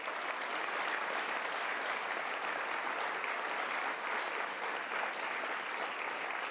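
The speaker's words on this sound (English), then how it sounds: "Let's give him one more big round of applause." Sustained audience applause at a World Meditation Day event at the United Nations, an even, dense roar of clapping from a large hall, heard alone without speech.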